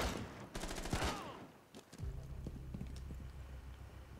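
Rapid bursts of gunfire in the tactical shooter game Rainbow Six Siege: a loud cluster of sharp, close shots in the first second, then quieter scattered impacts over a low rumble.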